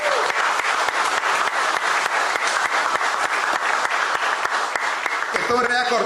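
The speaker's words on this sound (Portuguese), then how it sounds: "me diga aplauso para a federação" Sustained applause fills a room at a sports federation press conference, steady dense clapping from a crowd of attendees that carries on to the end.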